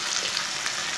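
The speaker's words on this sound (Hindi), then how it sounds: "2 बारीक कटे हुए टमाटर डाल लेंगे।" Finely chopped tomatoes hit a pan of browned garlic and fry with a loud, close, continuous bright sizzle.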